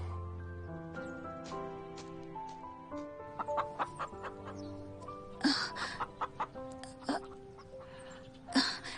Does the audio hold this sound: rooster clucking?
yes